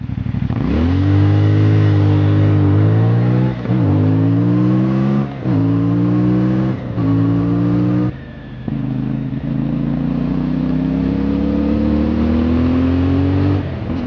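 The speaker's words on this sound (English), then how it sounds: "The 270-degree engine delivers an accelerating noise" A CFMOTO adventure motorcycle's 270-degree engine revs up repeatedly, pitch climbing through several gears with brief drops between shifts, loud and close.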